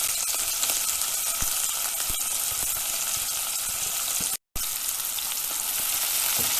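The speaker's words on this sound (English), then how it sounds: "Then add in 2 chopped onions." Two chopped medium onions frying in oil in a pot, giving a steady, loud, close sizzle with occasional stirring clicks and one momentary break near the end.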